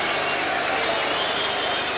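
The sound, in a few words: crowd applause at a boxing event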